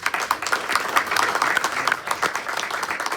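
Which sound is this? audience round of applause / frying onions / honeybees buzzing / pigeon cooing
audience round of applause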